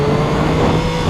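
Triumph Daytona 675R motorcycle engine pulling hard under throttle on a freeway, a loud steady drone with a strong low hum that holds close and constant, no voices.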